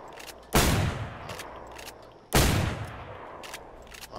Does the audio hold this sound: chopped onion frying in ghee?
no